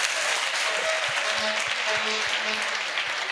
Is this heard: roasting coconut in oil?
no